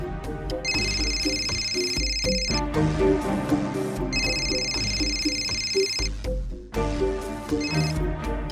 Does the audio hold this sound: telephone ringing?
yes